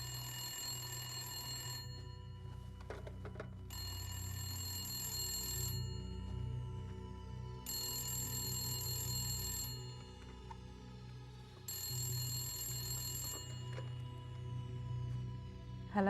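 A telephone bell rings in repeated bursts of roughly two seconds each, with short gaps between, four rings in all, loud and close over a low steady background hum.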